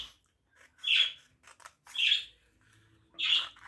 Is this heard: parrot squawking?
yes